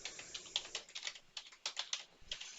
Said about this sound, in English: Let me try typing in my shit channel name